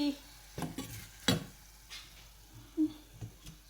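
Garlic sizzling in a pan on a home kitchen stove, with scattered scrapes and clinks of a utensil stirring against the metal, close and intermittent.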